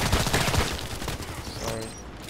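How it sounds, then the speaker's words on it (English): Video game gunfire with sniper rifle shots, loud and dense, several sharp reports crowding together for a couple of seconds. "So obviously using sniper."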